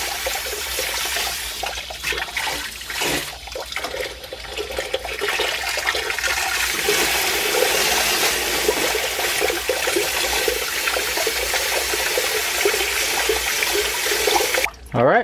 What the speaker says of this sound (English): you're going to see the filter start to be clean as you spray it